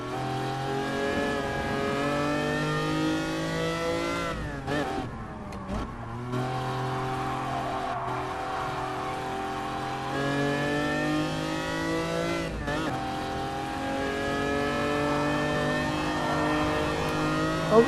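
Lancia Stratos engine in Gran Turismo Sport, a loud, close, buzzy roar that climbs steadily through the revs, drops sharply on upshifts and lifts, then builds again, running continuously with no talk.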